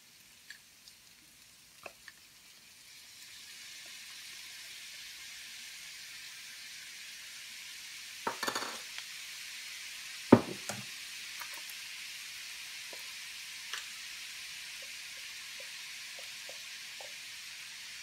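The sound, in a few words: soy sauce added to sizzling frying pan, stirring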